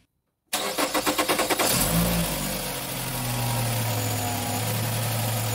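Nissan X-Trail T31 engine, checked after overheating, cranks with a rapid starter whir, catches and settles into a steady idle, close and alone.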